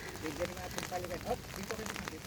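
Steady rain patters down under a broadband hiss on a mountain hike, with people talking intermittently over it nearby.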